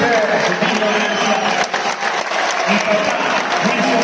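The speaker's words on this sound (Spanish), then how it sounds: "¡Aplausos muy fuertes!" Loud, dense applause from an audience at a book-launch speaking event, sustained without a break for the whole span, with crowd noise mixed in.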